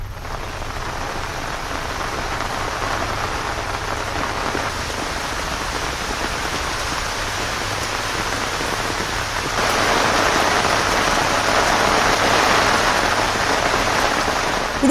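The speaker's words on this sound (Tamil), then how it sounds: "குறிப்பாக தேனி உத்தமபாளையம் பகுதிகளில் இரவிலிருந்தே கனமழையானது வெளுத்து வாங்கி கொண்டிருக்கிறது" Heavy overnight rain pours down in the Uthamapalayam area of Theni, Tamil Nadu, as a dense, continuous hiss that swells louder in the last third, with no voices.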